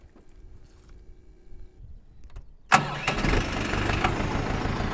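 A Dongfeng 404 tractor engine cranks and fires after a quiet stretch, then settles into a loud, steady, rumbling run close by.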